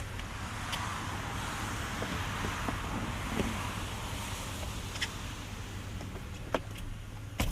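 A 2016 Ford F250 with the 6.2L gas V8, suffering a misfire, rough idle and rich running, is held under brake torque, giving a steady low engine drone with faint clicks throughout.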